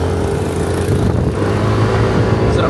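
Motorcycle engine droning steadily up close while riding a mountain road, with continuous wind rush and a slight rise in revs near the end; no talking.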